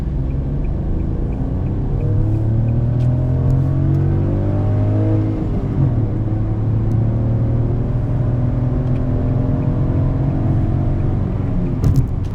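Fiat Argo with a 1.0 Firefly engine pulls hard from low speed, its engine note rising steadily in pitch under load with a continuous loud rumble and whir, recorded from inside the car, no talking.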